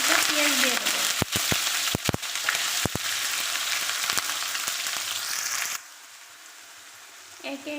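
Cumin seeds hit hot oil in a pan while shrimp and taro stolons are being cooked, setting off a loud, steady sizzle broken by sharp pops and crackles. The frying drops off suddenly near the end.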